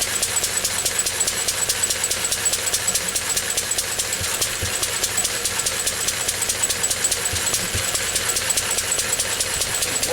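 A Lister D stationary diesel engine runs steadily nearby, its rapid, even knocking beat filling the clip with a hard mechanical chatter and no speech.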